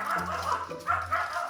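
A dog gives a few close, loud barks and yips in quick succession inside a home.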